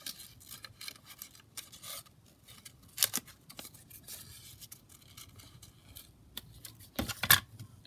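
Scissors trim card for a handmade greeting card made with the Prima Ballerina kit, producing a series of quiet, close snips and crisp cuts at an irregular pace, with a few sharper clicks.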